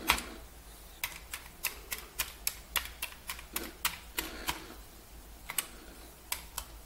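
Keys on a Commodore 64 computer keyboard clack as they are pressed, a run of sharp, fairly close clicks at an uneven typing pace over a low background hum.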